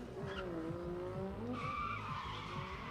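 Drift car skidding with sustained tire squeal at a drift pit in Buffalo, a loud engine roar underneath and the squeal shifting pitch as the car slides through its entry, continuous for about three seconds.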